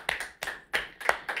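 Clapping of praise during a church prayer and worship session, four sharp hand claps in a slow, even rhythm, close and clear, with no talking over them.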